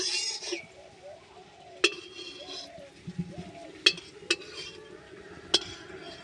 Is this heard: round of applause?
no